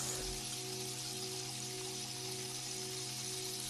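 A babbling stream flows slowly between stones as a soft, steady hiss of water, running without a break beneath a low, calm musical drone.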